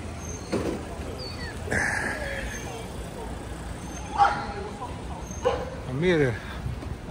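Dog seized by police barking and yelping at a distance in short, scattered bursts over several seconds, mixed with people talking.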